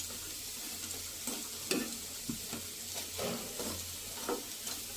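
Masoor dal fritters fry in oil with a soft, continuous sizzle, broken now and then by light stirring or scraping sounds, fairly quiet and with no talk.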